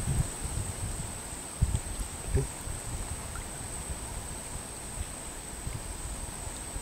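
A west wind blows across open water near tree roots where crabs are sought, giving a steady broad rushing hiss with a few low bumps and knocks in the first seconds.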